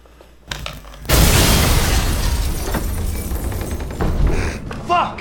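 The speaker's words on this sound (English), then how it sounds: "Just let me stand up from getting fucking an explosion just shot in my face" An explosion in the video game Resident Evil bursts suddenly and loudly, and its roaring, crackling rumble then fades over several seconds, with a player's voice talking over it.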